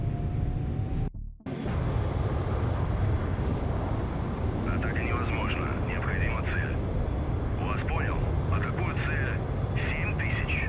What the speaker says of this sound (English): That's a lot of planes.